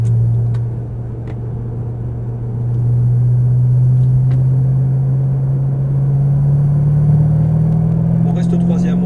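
A car engine in third gear during a driving lesson gives a steady, close low drone that slowly climbs in pitch as the car gathers speed, while a voice talks over it.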